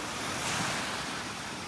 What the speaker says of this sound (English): Listen to the little waves coming in.